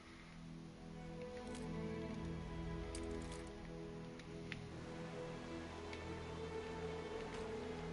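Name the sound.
rain in the video game Anno 1800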